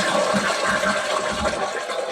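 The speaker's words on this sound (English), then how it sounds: "then I bought a toilet and I bought a macerator" Macerator toilet fitted in a converted BT telecom van flushing, a loud continuous rush of water mixed with pump whir, steady throughout the short stretch, no talking.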